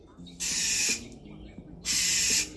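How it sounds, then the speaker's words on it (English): A bird calls twice in harsh, breathy bursts about a second apart, each lasting roughly half a second, close and fairly loud over quiet background murmur. "That's a different kind of bird."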